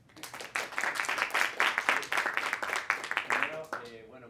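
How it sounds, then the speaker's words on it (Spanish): An audience applauding for a professor before a summer school talk, a crisp burst of many hands clapping in a room that fades out near the end, with a voice entering as it dies away. "Un aplauso para el profesor"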